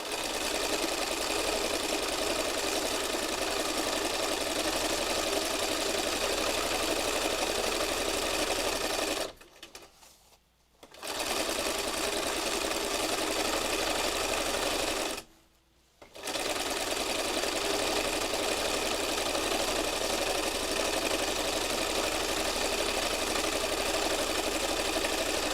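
A sewing machine runs steadily over fabric and threads on a funky heart project, its loud, continuous whir broken by two short pauses before the stitching starts again.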